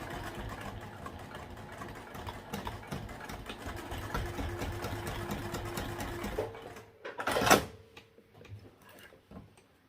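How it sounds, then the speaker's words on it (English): A sewing machine stitching across a thick bag strap and back stitching, a steady rapid mechanical whir for several seconds, then a pause, a brief louder burst and softer clicks as it stops. "And then I'll sew across this and back stitch a couple of times."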